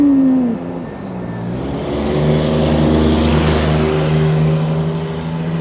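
Two buses pass close by, their loud engine drone gliding down in pitch and then swelling again as they roll past, with no talking.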